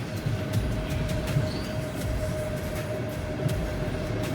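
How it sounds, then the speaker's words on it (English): A high-speed train in Uzbekistan rumbles along in a steady, loud interior roar with a faint sustained whine and occasional soft clicks and knocks from the carriage, and no speech. "Today, it's just a high-speed train"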